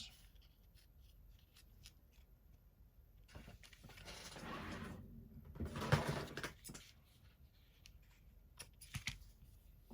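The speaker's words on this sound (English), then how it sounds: "We're going to trim the edges with our ribbon scissors." Ribbon scissors snip and slide along paper edges in two longer cutting passes, with small clicks and rustles around them, close and quiet.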